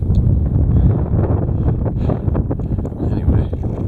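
Strong mountain wind buffets the microphone near the summit of Mt Adams, with loud, continuous gusty rumbling.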